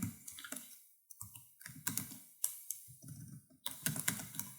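Close, quick computer keyboard typing of a kubectl command for a Kubernetes service, with bursts of clicky keystrokes and short pauses in between and no voices.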